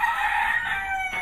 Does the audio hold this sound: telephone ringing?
no